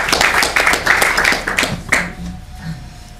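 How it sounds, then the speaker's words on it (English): An audience claps for an intern at a workplace gathering, a burst of dense, close hand claps that thins out and fades over a few seconds, with faint voices near the end. "Give him another round of applause."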